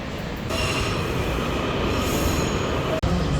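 A train rolls out from Midway Airport with a loud, steady rumble and rattle of wagons, continuous for the whole stretch apart from a brief dip near the end, with no voices.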